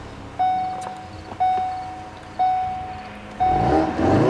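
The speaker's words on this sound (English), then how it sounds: "push this button here to fire up the engine" Three short electronic beeps repeat at even intervals, then the engine of a 2016 Ford Focus RS cranks on push-button start and fires up into a loud, rumbling idle close by.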